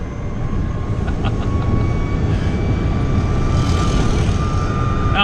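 A Renault Twizy electric quadricycle is driven, heard as a loud, continuous roar of road and wind noise with a thin electric whine running beneath it.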